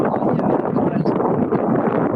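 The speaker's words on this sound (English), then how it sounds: "it is windy. A little windy." Loud, blustery wind buffets a phone microphone close up outdoors in rural France, a constant rumbling roar with gusty fluctuations and no clear voices.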